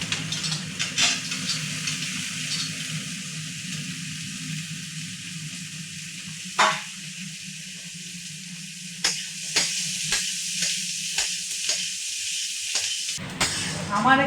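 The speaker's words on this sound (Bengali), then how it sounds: "আমার এখানে আলু পেঁয়াজ লঙ্কা সব ভাজা হয়ে গেছে।" Potatoes, onions and chillies frying in a pan for a tadka dal, a steady close sizzle with scattered stirring clatters running through the whole stretch.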